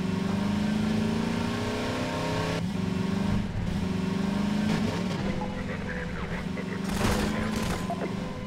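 A car engine revs steadily through the whole stretch in a Half-Life style game where Combine soldiers try to take the car, its tone rising and falling, with bursts of gunfire and clatter breaking in near the middle and end.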